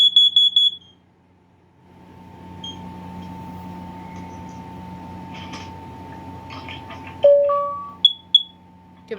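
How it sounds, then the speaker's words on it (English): A combination smoke and carbon monoxide alarm in a collector's test run gives short bright beeps at the start, then a low steady hum, then a few sharp tones and chirps near the end, loud and close. "Warning. Carbon monoxide. Testing carbon monoxide."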